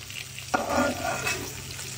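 Curry being stirred and fried in a pan, a steady low sizzle broken by one sharp scrape of stirring partway through.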